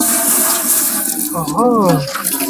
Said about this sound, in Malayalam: ഇപ്പൊ വെള്ളം ഒഴിച്ചു കൊടുക്കുക.